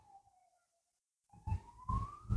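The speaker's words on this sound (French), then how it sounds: "J'en ai plein le dos d'entendre les ambulances." An ambulance siren passes outside: a faint wailing tone fades out, there is a short silence, and then a louder siren rises steadily with a low traffic rumble beneath it.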